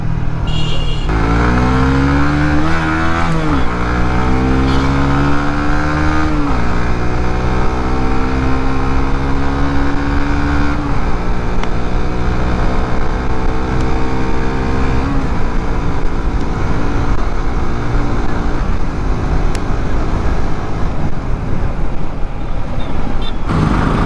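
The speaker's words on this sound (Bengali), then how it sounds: "জাস্ট একটু ক্লাচটা টেস্ট করলাম প্রত্যেকটা গিয়ার শিফট করে" An RCB S1 motorcycle revs loud and close as its clutch is tested, engine pitch climbing and dropping in repeated sweeps through each gear shift.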